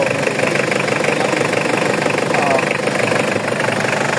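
A Mitsubishi Pajero with a 4D56 diesel engine, suffering an overheating problem, idles steadily up close with a constant, loud, rough hum and rattle throughout.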